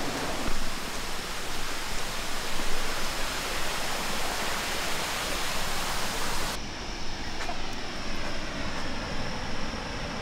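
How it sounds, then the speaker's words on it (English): Waterfall near Hilo, Hawaii, roaring as a constant broadband rush of falling water, loud and close, steady throughout without voices. "This is the first look at this beautiful waterfall"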